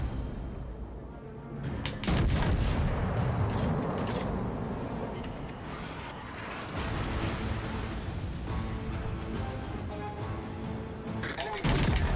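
Naval gunfire from an enemy Pensacola cruiser in World of Warships: Legends, with heavy booming salvos and rumbling explosions repeating loudly amid dense battle noise and mechanical creaks.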